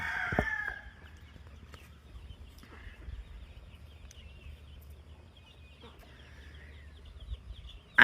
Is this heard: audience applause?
no